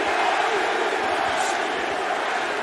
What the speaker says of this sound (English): This is a very pro-Ruiz crowd.